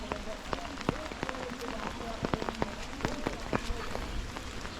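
Heavy rain falls steadily over a village paddy field where cut rice lies soaking, a dense hiss broken by sharp drops and splashes close by, with no voices.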